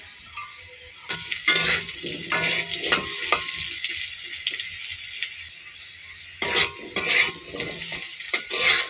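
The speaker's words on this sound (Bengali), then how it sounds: "তো এই তেলে এখন আমি আলুটা ভেজে নেব।" Potato pieces fry in hot oil in a home kitchen, with a steady sizzle and repeated bursts of scraping and stirring clatter, close and fairly loud throughout.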